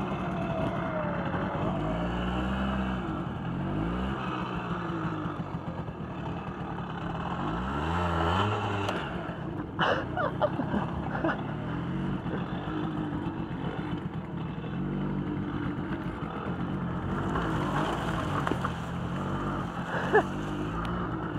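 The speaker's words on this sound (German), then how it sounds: "Direkt neben der Autobahn." Steady traffic roar right beside the Autobahn motorway, a continuous loud wash of passing vehicles with engine drone and occasional louder swells of nearby cars, with no talk over it.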